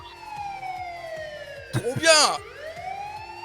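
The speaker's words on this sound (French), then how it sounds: "là tu peux t'amuser avec la sirène" A police siren sound effect wails in long falling and rising sweeps, loud and close, while a voice briefly speaks over it.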